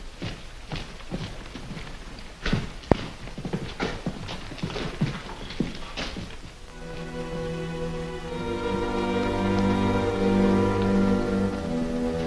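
Horses' hooves clip-clop in a 1950 Western, a run of sharp, uneven hoofbeats up close for several seconds before giving way to a swelling orchestral music score.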